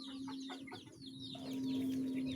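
A hen and her chicks fight and cluck at close range, with short repeated clucks and chirps over a steady background hum, and no talk.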